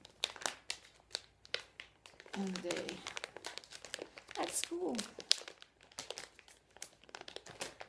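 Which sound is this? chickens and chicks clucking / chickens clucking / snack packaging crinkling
snack packaging crinkling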